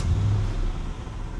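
Camaro engine turning over and catching, a low rumbling start with a short initial surge settling into a steady, moderately quiet idle.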